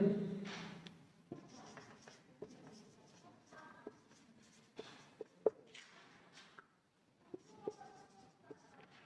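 Chalk or marker taps and scratches on a classroom board as an example is written, a sparse series of short sharp strokes and clicks, near and fairly quiet, with no talk.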